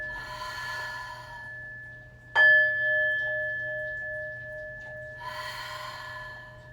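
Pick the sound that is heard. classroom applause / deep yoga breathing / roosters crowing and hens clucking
deep yoga breathing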